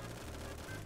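Rapid automatic gunfire from a Colt SMG loaded with .50 caliber rounds in the shooter game Phantom Forces, a brief dense burst of shots heard from a fair distance.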